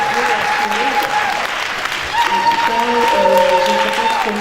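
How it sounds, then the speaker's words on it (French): Applause from an audience at a Miss Africa nomination event, steady clapping mixed with crowd noise while tonal music or voices run underneath. "Nous pouvons l'applaudir."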